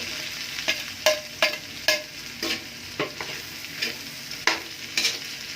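Cabbage being stir-fried in a pan for pancit canton, a steady sizzle broken by about a dozen sharp spatula scrapes and clanks in an uneven rhythm, close and fairly loud, with no talking.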